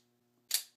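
A single sharp click from dry firing a Springfield EMP 1911 pistol, the trigger snapping once near the end after near silence, close and crisp with a short decay.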